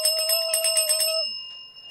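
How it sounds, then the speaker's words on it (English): A bell rings rapidly and repeatedly for about a second, bright and metallic, then its tone hangs and fades away with no talk over it. "So I'm going to ring the bell, but like kind of far away"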